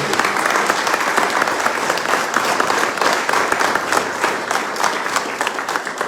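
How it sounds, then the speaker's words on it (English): A room full of people applauds steadily for a speaker at a gallery upgrade unveiling, dense continuous clapping that stays loud and even throughout. "Let's give her a round of applause."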